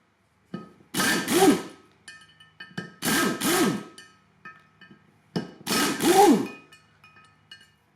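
Tools work at the bolts of a first-generation Toyota 4Runner rotor assembly, producing three close, distinct bursts of metallic scraping and clanking separated by quieter ticks and pauses.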